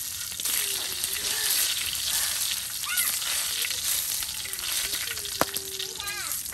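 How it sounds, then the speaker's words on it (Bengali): Oil heating on a flat pan for pangas fish bharta gives a steady broadband sizzle throughout, with a few clinks and faint voices in the background. "এই যে আপনার এখন তাওয়ায় তেল দিয়ে দেওয়া হচ্ছে পাঙ্গাস মাছের ভর্তা করার জন্য।"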